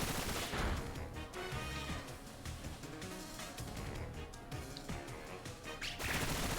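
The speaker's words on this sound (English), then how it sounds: "Bullet Seed." Bullet Seed attack in the Pokémon Scarlet video game: a dense, rapid barrage of popping, rattling hits that runs continuously for several seconds at a steady loud level, without speech.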